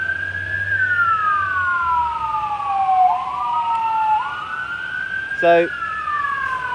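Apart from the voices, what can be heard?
fire engine siren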